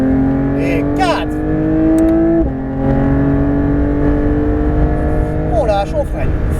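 A Porsche 911 GT3 RS engine pulls hard on a circuit, its loud tonal note climbing steadily with a gear change midway and rising again, while someone talks over it from inside the car.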